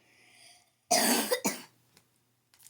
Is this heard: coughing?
yes